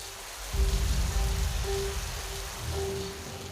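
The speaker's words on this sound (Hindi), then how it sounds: "तभी बारिश और तेज हुई और जंगल में बाढ़ आनी शुरू हो गई।" Steady, dense rain pours down in a constant hiss with a low rumble underneath, no voices present.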